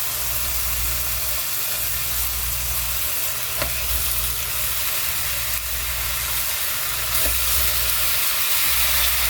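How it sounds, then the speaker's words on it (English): Bacon frying in a pan for breakfast burritos: a steady, close hiss and sizzle running throughout, with a couple of faint clicks, no talking. "So I'm just going to cook up some bacon."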